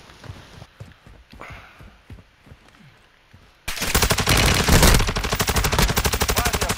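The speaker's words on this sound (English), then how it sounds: "Someone's shooting at me." Gunfire in the video game Call of Duty: Modern Warfare II, quiet scattered shots at first, then a sudden loud burst of rapid automatic fire that continues steadily to the end.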